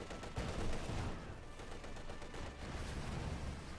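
Rattling small-arms and machine-gun fire crackles in dense, overlapping bursts during a World War II battle against Grenadier infantry in the strategy game Company of Heroes 2, with heavy thuds underneath and no voice over the top.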